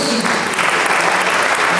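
A crowd at a city sports gala applauds, a brief, loud and dense wash of clapping from many people heard close and continuous throughout.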